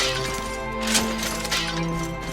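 Ceramic vases smashed in the video game Dragon Quest XI: a couple of brief, crisp breaking crashes rise out of steady in-game background music.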